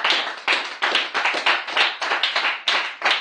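A church congregation claps in praise of the Lord, about a dozen loud, close, fairly even hand claps over a few seconds, with no talking.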